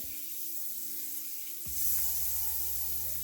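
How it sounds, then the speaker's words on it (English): Butter melting and sizzling in a hot frying pan while a toasted cheese sandwich cooks, a steady close hiss that swells louder partway through with a faint tonal hum underneath. "I just want to clear the pan to put in another tablespoon of butter, get it melted"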